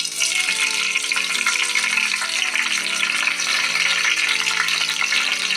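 Mustard seeds sizzle in hot coconut oil in a pan while a spicy red chilli chutney is being made: a bright, steady hiss of frying that runs without a break, with a faint tonal hum beneath it and no voices.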